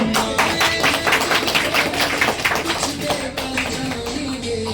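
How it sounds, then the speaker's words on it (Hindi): Loud, dense applause from a crowd at the inauguration of an OK Life Care company office in Jaynagar, the clapping steady and continuous throughout with a faint voice mixed in underneath. "जोरदार ताली"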